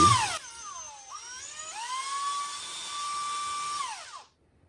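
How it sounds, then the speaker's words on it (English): A small drill at relatively low speed whines up in pitch as it bores into a slip-cast ceramic sphere, its tone wavering and rising, then spinning down and stopping. "I'm just gonna start drilling holes and seeing what happens."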